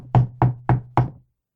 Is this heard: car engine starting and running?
no